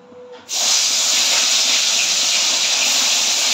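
Small topse fish, rubbed with salt and turmeric, are slipped into hot mustard oil. A loud sizzle bursts in abruptly after a brief quiet moment, then holds as a steady, close, crackling hiss.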